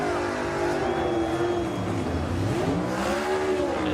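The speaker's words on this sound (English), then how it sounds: "Christopher burns down a used set of Goodyear Eagles" A NASCAR next gen Cup car roars through a burnout on a used set of Goodyear Eagle tires, its engine note rising and falling in a loud, continuous, close howl.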